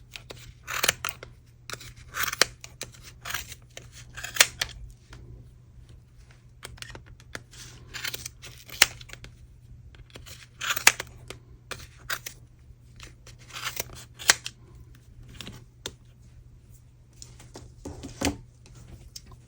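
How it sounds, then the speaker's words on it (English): Scissors snip repeatedly through crocheted yarn along the grooves of a moss stitch tree skirt, crisp close-up cuts coming in short clustered bursts with quiet pauses and a low steady hum behind. "take your scissors and cut through the grooves"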